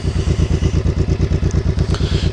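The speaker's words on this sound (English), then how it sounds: "I'll go ahead and get you guys exhaust clip riding out real quick" A 2001 Honda Shadow Bobber cruiser's exhaust while riding: a loud, steady, rhythmic low thumping with a regular lumpy pulse, close and alone without speech.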